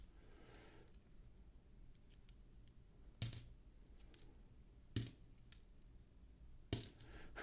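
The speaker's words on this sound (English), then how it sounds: "Got 5 that sort of spilled onto the desk" Coins drop and clatter onto a desk in three distinct sharp metallic bursts spaced a couple of seconds apart, with faint small clinks between them in a quiet room.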